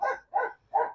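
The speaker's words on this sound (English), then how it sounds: "we got the dogs barking in the background" Dogs bark in the background in three separate, evenly spaced barks, moderately loud, with no talking.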